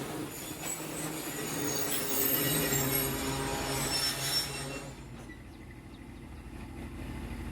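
Passenger train pulling into Shah Noor Mohammad station on the Pakpattan to Lahore line, with loud squealing wheels and rumbling carriages for several seconds before the noise drops off as it slows.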